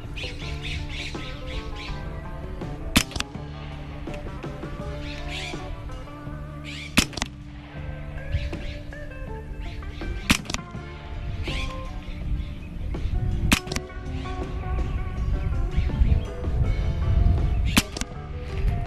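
Hatsan Blitz .30 semi-auto air rifle firing 54-grain powder-coated Cattleman slugs, sharp cracks spaced a few seconds apart, close and loud over a busy background of squawking birds and ambient noise.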